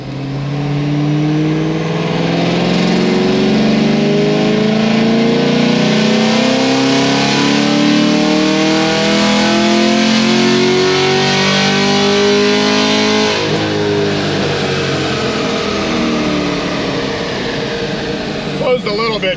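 A car engine fitted with an upgraded cam and headers revs hard at full throttle, a loud, continuous climbing roar that holds high before easing off near the end.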